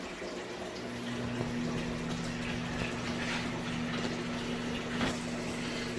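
A water pump starts up in a 55 gallon drum pond filter, a steady hum settling in beneath continuous churning and splashing water, fairly close and with no talking.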